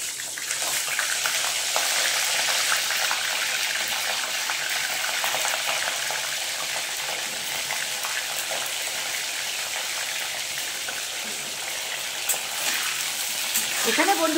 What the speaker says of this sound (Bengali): তেলটা আমার কড়াইতে গরম হয়ে গেছে। এইবারে আমি কপিগুলো এক এক করে ছেড়ে দেব।